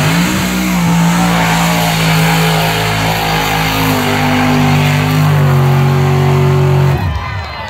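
A Chevy mud truck at a mud bog event revving at wide open throttle, a loud, close roaring engine holding a sustained high drone with small pitch shifts before dropping off abruptly near the end.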